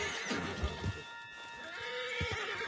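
A horse in Red Dead Redemption 2 lets out a near, fairly soft whinny with hoof clip-clops underneath, set against a steady game-world ambience.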